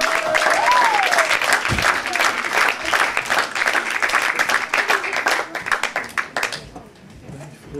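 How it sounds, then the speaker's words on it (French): An audience at a 2011 Paris slam poetry night bursts into loud, dense applause, with a short whistle or cheer at the start, before the clapping thins and fades out. "Veuillez applaudir très fort"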